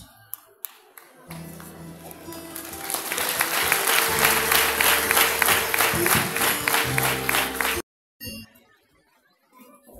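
An audience at a Catholic education week closing ceremony breaks into sustained applause for a guest, a dense wash of many hands clapping that builds and then cuts off abruptly, with a voice over the clapping.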